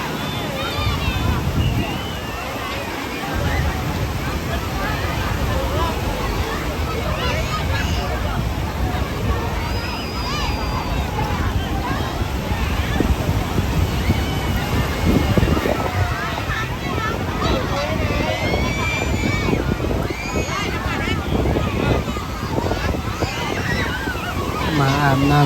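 Sea surf washes continuously at a crowded Vietnamese beach in Thanh Hoa, steady broadband wave noise under constant chatter and shouts from bathers of all ages, with wind buffeting the microphone.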